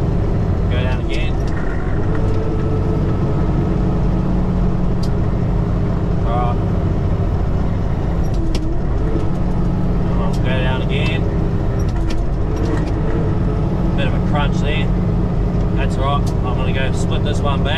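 A road train truck travelling from Tully to Brisbane in North Queensland downshifts through its gears, its loud engine drone rising and falling in pitch under a driver talking throughout.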